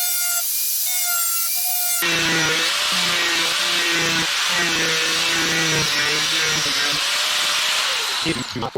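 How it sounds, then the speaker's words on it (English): An angle grinder slowly cuts through a plastic fender flare sheet for a Cfmoto Z950, a loud harsh whine with gritty pulsing bursts starting abruptly and running continuously for several seconds. "I'm going to cut it with the grinder and cut it slow."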